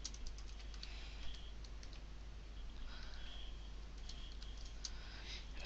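Someone types a short text blurb on a computer keyboard for a Joomla site article. Quiet, steady key clicks patter on throughout over a low constant hum.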